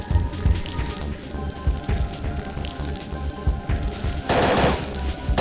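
Rapid gunfire bursts from the survival horror video game Parasite Eve 2, dense and continuous with a loud dull rattle, ending in a bright noisy blast near the end.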